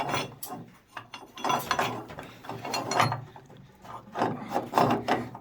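A spanner works on immersion heater fittings with close, irregular metallic clicks, scrapes and ratcheting knocks in short bursts, fairly quiet and without talk.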